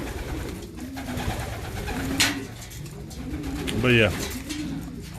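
Racing pigeons coo in their loft with repeated soft, rolling calls, one louder coo standing out near the end, while someone talks over them close by.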